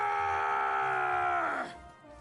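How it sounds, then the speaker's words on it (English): A drawn-out, strained scream from a character in Monster Hunter Stories 3. It holds a steady pitch, then bends downward and cuts off sharply, leaving a short quiet tail. "That scream, was that Gall?"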